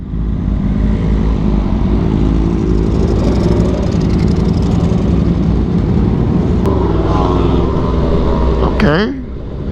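Sport motorcycle engine droning steadily at high revs while riding on a California road, loud and continuous, dipping briefly as the throttle is chopped near the end.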